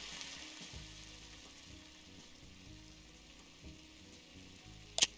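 Tuna steak frying in a pan in Cooking Simulator, a steady soft sizzle running throughout with faint clinks and a sharper clatter near the end.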